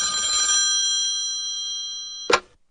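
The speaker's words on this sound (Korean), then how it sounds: "또 전화가 왔습니다." A telephone rings with a steady, bright electronic trill that holds for a couple of seconds, then ends with an abrupt clunk as the line cuts off.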